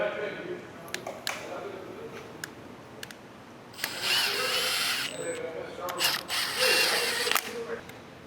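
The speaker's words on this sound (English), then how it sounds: "And those will be torqued down to 33 foot-pounds." A torque wrench ratcheting bolts tight during a Honda S2000 Type R engine swap: scattered short clicks, then longer loud bursts of rapid ratcheting up close, with voices around it.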